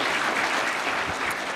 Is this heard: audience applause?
yes